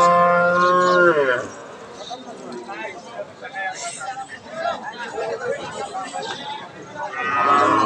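Cattle, crossbred cows, low loudly in deep, drawn-out calls at the start and again at the end of a cattle market, with a crowd chattering and murmuring in between.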